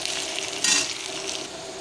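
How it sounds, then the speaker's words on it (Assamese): Onions frying in a pan with a little salt, giving a steady close sizzle with soft stirring scrapes and a brief louder hiss partway through. "ইয়াত পিঁয়াজটো অলপ ভাজ খাইছে"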